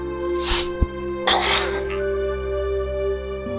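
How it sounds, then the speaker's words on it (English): Two sharp, forceful throat-clearing bursts close to the mic, a brief one then a longer rasping one, over a steady background hum. "I had to clear my throat and nasal passages again."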